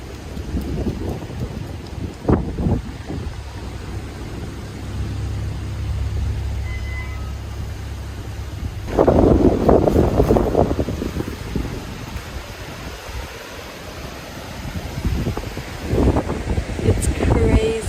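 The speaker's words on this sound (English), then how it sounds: "I love when the wind is howling a little bit through the trees." Strong wind gusts roar and buffet steadily outdoors, with a rushing, rain-like hiss and a sudden louder surge partway through.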